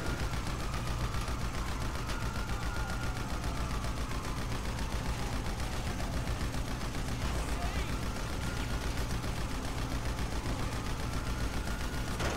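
Nonstop rapid gunfire in Grand Theft Auto V, dense repeated shots under a wailing siren, with faint voices talking now and then.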